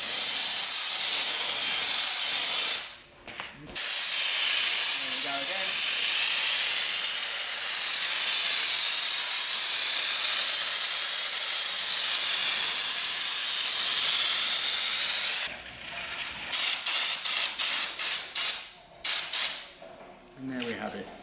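Spray gun spraying Raptor coating in sweeping passes, a loud, steady hissing spray that pauses briefly near the start and stops later, followed by short sputtering bursts.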